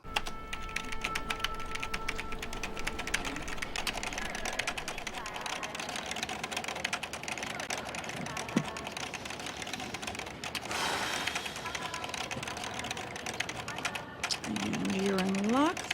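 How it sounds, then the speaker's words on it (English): Bank teller typing fast on a computer keyboard, a dense stream of close clicking keystrokes with a few brief mechanical sounds and a short rising tone near the end. "does the teller really need to type so many words per minute just to make a deposit?"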